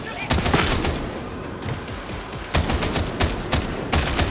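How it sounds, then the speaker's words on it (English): Assault rifle fire in the video game Warhammer 40000 Darktide: loud, close bursts of rapid automatic shots in several volleys with brief pauses between them. "So I got our first gun, and I kind of like it. It's an assault rifle of sorts."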